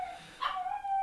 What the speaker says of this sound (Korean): 우리 강아지가 우는 소리입니다.